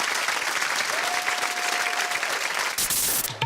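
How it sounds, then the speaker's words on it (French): A television studio audience gives a sustained round of dense, loud applause for a few seconds. It breaks off abruptly near the end. "On l'applaudit bien fort."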